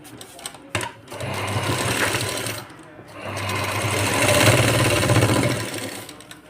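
Sewing machine running in two sustained bursts while stitching tucks down the centre of a boat-neck blouse, a loud, close, rhythmic mechanical hum with a short pause between runs.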